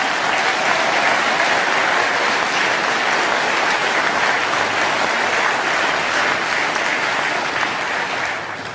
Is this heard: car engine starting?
no